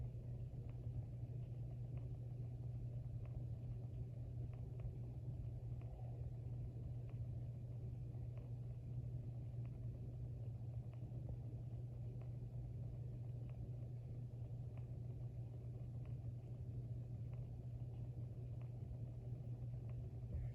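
A 1930s Hunter ceiling fan spins down with a low steady motor hum and soft rumble, continuous and faint, no voices.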